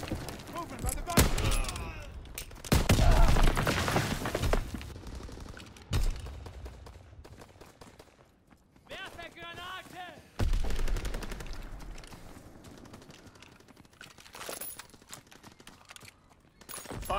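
Heavy gunfire and booming artillery from a video game battle, with bursts of shots and loud blasts clustered early and again midway, interspersed with brief quieter gaps and faint radio-style voice chatter.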